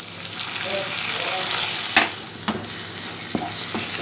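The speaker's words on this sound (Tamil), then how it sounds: "விழுதை நல்லா ஊற்றிட்டு வதக்கலாம்" Ground green chilli paste sizzling over softened onions in a pan, a loud, close frying hiss broken by several sharp spatula clacks and scrapes against the metal.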